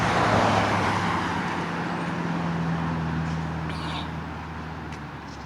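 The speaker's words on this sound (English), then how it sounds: "Some more cars coming through." Cars on the Lake Ontario State Parkway in Greece, NY, pass by one after another as a continuous roadway rumble that is loudest at first and eases slightly, heard from a nearby trail without talk.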